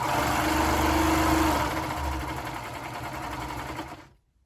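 A home sewing machine stitches fabric in a steady, fast mechanical whir close by, slowing slightly midway before stopping abruptly near the end.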